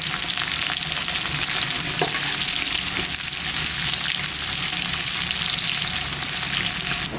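Onions sizzle loudly and continuously in a hot pan while cooking chicken biryani, a dense crackling hiss with occasional stirring clinks.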